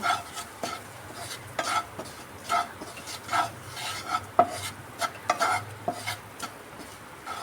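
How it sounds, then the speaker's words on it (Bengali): Flour is fried in butter and stirred steadily to make a roux for white sauce pasta. Repeated close scraping strokes and clicks of a spoon against the pan sound over a faint sizzle. "ময়দাটাকে বাটারের সঙ্গে খুব ভালো করে ভেজে নেব।"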